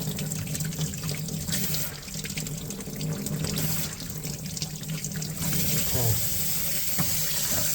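Tap water runs continuously into a sink while a paint brush is rinsed clean, a steady splashing hiss at moderate distance, with faint speech mixed in.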